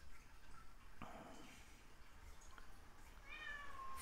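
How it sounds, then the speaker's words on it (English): A cat meows near the end, a short rising cry over a quiet outdoor background at a camping spot, after a low thump earlier on. "Why are you meowing, man?"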